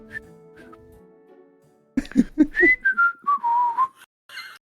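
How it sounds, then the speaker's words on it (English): A person whistles a clear, wavering tune up close, preceded by a few short throaty coughs or clicks, then a brief breathy noise at the end. "That innocent whistling isn't fooling anyone."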